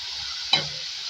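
Chopped beans stirred into okra frying in a pan: a steady close sizzle with a single scraping stir stroke partway through.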